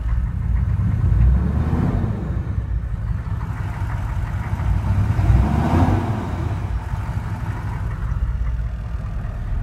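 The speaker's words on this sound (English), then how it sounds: "You can hear that turbo." A 1994 GMC K2500HD Suburban with a 6.5 turbo diesel engine and new turbo runs steadily, its loud diesel rumble close and continuous with slight swells in revs and a faint turbo whine, no voices.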